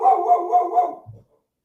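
A dog gives one loud, drawn-out bark close by, followed by a short softer yip, with no voices.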